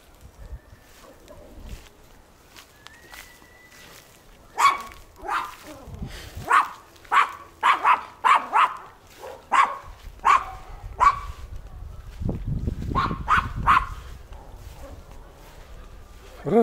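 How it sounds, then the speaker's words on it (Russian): A dog in a flowering garden barks in a long series of sharp, fairly close woofs, some in quick clusters and others spaced apart, with a person talking quietly at times between them. "Разорвет собака."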